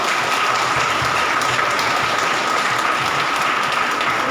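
Enthusiastic audience applause at a DXN business meeting, dense continuous clapping from a large crowd, loud and sustained throughout without letup.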